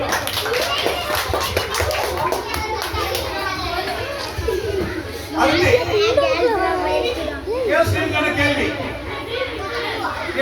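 Children at a school quiz contest clap together in a quick patter while kids' voices chatter and shout over and around the clapping.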